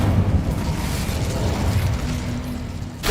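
A fire spell cast in Hogwarts Legacy gives a sustained, rumbling whoosh of flame that burns steadily for about three seconds, then flares with a brief burst at the end.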